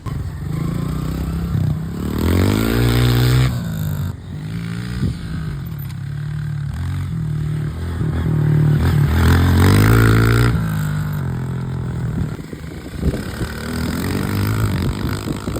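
A motocross motorcycle out on a dirt track, loud and close, its engine revving up and down in repeated surges, with clatter and scraping between the bursts of throttle.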